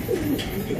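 A pigeon at a pigeon farm gives a short, soft throaty coo, close and brief against a low background murmur.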